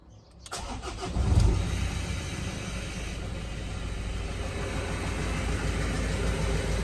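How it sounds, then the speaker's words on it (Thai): A 2012 Mazda BT-50 Pro 2.2 pickup truck engine cranks and catches with a brief roar, then settles into a steady, even idle close by. "เดี๋ยวผมไปสตาร์ทให้ฟังเสียงเครื่องยนต์กันนะครับ"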